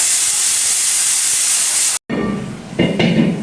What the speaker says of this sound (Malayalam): അപ്പോഴേക്കും നമ്മുടെ കുക്കർ അവിടെ ഫിസിലടിക്കുന്നുണ്ട്.